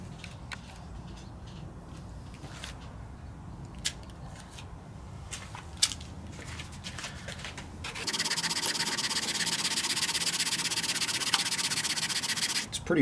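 Coarse sandpaper rubs steadily over the rusty flywheel of a Kohler 149cc XT engine on a Lawn-Boy mower: quiet scratchy strokes at first, then a louder, continuous close-up rasping scrub.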